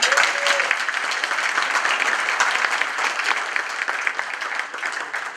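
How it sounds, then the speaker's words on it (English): A room of people applauding a speaker at a meeting, with brisk, crisp clapping from a modest crowd that carries on evenly and starts to thin toward the end. "Let's give a round of applause for Cynthia Mordecai."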